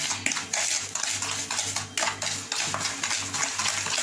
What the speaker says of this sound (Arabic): كنطربو مزيان هاد البيضه مع داك الكاس ديال سنيده حتى كيطرب مزيان